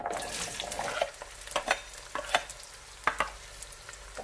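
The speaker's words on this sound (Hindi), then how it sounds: "सबसे पहले तेल गरम होने के बाद इसमें प्याज ऐड करेंगे। सारी प्याज एक साथ ऐड कर देंगे।" Onions frying in hot oil for baingan bharta, a steady broadband sizzle with several sharp stirring scrapes spaced through, close and moderately loud with no talk.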